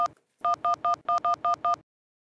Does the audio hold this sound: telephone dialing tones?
yes